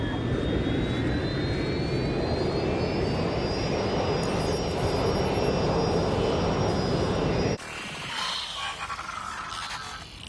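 A jet airplane engine roars steadily in Watch Dogs Legion, a loud continuous whine and rumble that cuts off abruptly near the end, leaving quieter game ambience.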